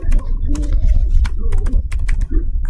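Rapid clicking of a computer keyboard as commands are typed into a network switch configuration, irregular bursts of keystrokes close up over a low background hum.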